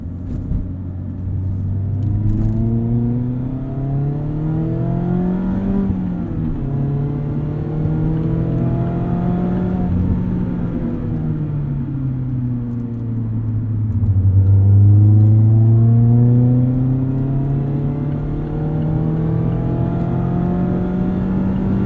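A modified 2019 Mazda MX-5 Miata 30th Anniversary exhaust burbles and rises and falls through gear changes while driving, a steady close engine note with smooth revving swells and no talk.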